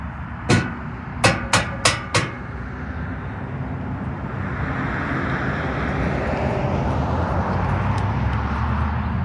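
A loose 4x4 step side piece for an OBS Suburban rattles in a few sharp metallic knocks as it is handled, then a steady hiss of background noise.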